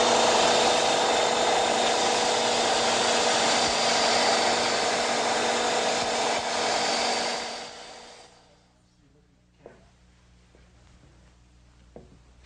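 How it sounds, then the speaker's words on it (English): A belt sander with dust collection grinds steadily across a pine box, a loud, even rasping roar lasting about eight seconds before it winds down and stops, followed by a few faint clicks and taps in the quiet. "because we have a dust collection system hooked up to our belt sander"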